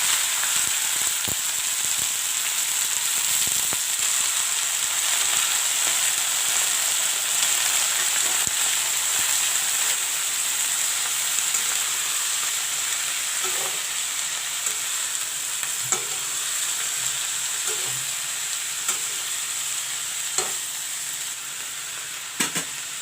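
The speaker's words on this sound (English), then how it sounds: "Put in the fine cut up cabbage." Finely cut cabbage fries in a pan for cabbage fugaad, giving a constant bright sizzle with occasional small pops and stirring clicks. The sound is close, stays loud and even, and runs on its own without talk.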